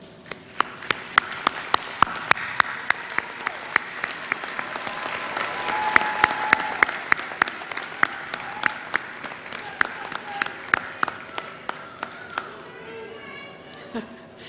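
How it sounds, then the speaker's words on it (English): Commencement graduates standing and applauding their guests fill the hall with steady, loud clapping that runs for about twelve seconds, with sharp individual claps standing out, before fading as it thins near the end. "let's give them a round of applause for all the support and love they've shown you"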